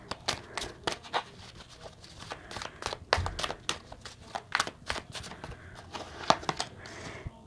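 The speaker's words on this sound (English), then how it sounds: "I'm going to get a couple of these cards out and then get a romance angel card." Tarot cards shuffled and handled during a reading, a quiet stream of crisp, irregular card flicks and slaps, close up and otherwise alone.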